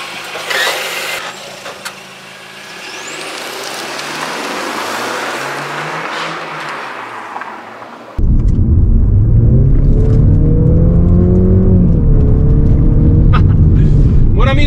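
A 2024 Mercedes C 200 AMG Line engine pulls away, first a muffled cabin rumble, then a sudden louder, steady engine drone with rising and falling pitch as the car drives off.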